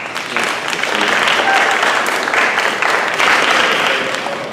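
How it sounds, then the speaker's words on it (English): Audience applause fills a ceremony hall at a summer program closing event, steady dense clapping sustained throughout without a break, close and loud. "So please give them another round of applause."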